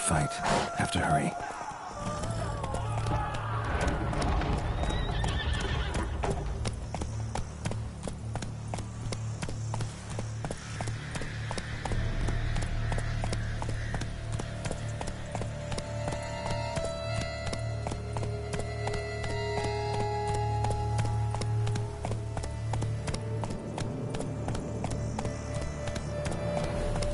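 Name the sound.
horse galloping in a video game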